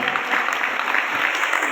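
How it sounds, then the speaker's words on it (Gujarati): An audience applauds students at a school gathering with continuous, even clapping from many hands, moderately close and steady throughout, with no speech over it. "એકવાર વિદ્યાર્થીને જોરદાર તાળીઓ પાડીને વધાવી."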